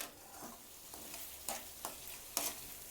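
Tomato and rice mixture frying in oil in a pan, a soft steady sizzle with a few sharper crackling spatters and stirring scrapes, fairly quiet and with no talking.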